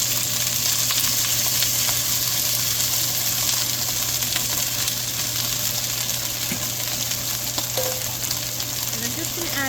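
Rinsed broccoli frying in oil for a stir fry, giving a continuous dense sizzle with a steady hiss and small crackles, close and fairly loud from start to end.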